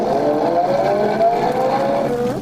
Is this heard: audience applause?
no